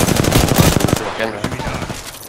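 Rapid bursts of automatic gunfire crackle in a shooter video game, loud and close, with a dense volley in the first second tapering into scattered shots.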